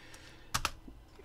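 Keys clatter on a computer keyboard during coding work, a quick burst of two or three close, crisp clicks with light room tone around them.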